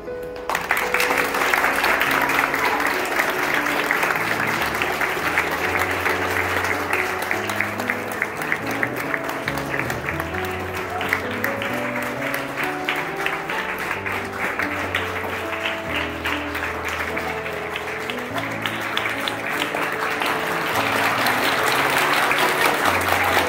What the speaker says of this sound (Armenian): մի քանի րոպե ոտնկայս բոլոր երեխաները, դեռահաս երեխաները ծափարում են մեր տղաներն